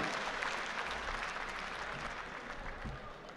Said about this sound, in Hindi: तो आपके एक बार जोरदार तालियां